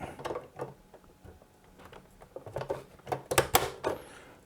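Ink cartridges are pushed into an HP Deskjet 3760 printer, giving a series of close plastic clicks and knocks, sparse at first and sharper and denser toward the end.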